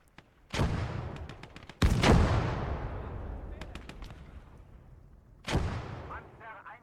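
Heavy Dushka machine gun in the Gates of Hell war game fires a few loud, sharp bursts with long echoing decay, spaced apart across the stretch, over distant battlefield rumble.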